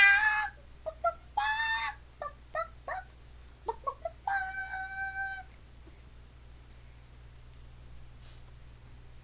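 Cartoonish rooster clucks and crows come from giant rooster balloons in the online game Animal Jam, several short bursts in the first five seconds, then a quiet hum.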